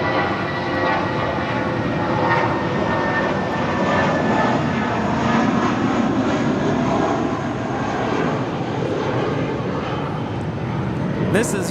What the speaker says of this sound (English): 2434 departing to Bozeman on an A319